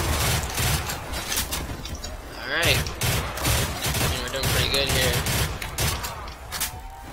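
Bursts of M16 rifle gunfire ring out in Call of Duty: World at War Nazi Zombies on the Kino map, rapid overlapping volleys repeating through the stretch, with a voice talking over the shooting.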